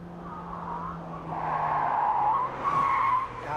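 A Volvo 850 takes the bends of an evasive-maneuver course at 70 km/h, its tires skidding and squealing in steady, rising waves over the engine note for several seconds, fairly close and loud, with no talk.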